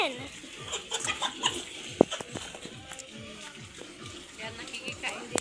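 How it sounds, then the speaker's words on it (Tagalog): Chickens clucking and pecking at close range, with scattered short calls over a busy background of farmyard noise and occasional knocks. "nakikikain din yung mga manok"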